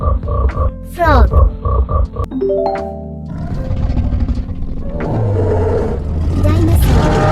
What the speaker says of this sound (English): Frog means medhak.